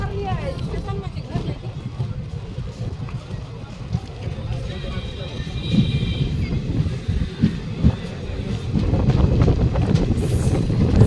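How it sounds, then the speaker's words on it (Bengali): Passenger chair-car train from Kolkata to New Jalpaiguri rolling through a station, a steady loud rumble of wheels and carriage noise with a busy murmur of passengers over it throughout. "এখন ট্রেনটি পেরোচ্ছে হরিশ্চন্দ্রপুর স্টেশন থেকে"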